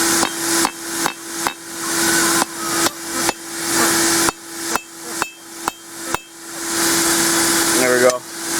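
A smith hammers the tip of a hot forged iron spoon at an angle on an anvil, about a dozen sharp ringing blows in an uneven rhythm, each followed by a brief ring, then a short pause and a final tap.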